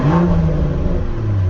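A bus engine on a stock exhaust revving, a loud close throaty roar that rises then settles into a smooth steady drone for under two seconds.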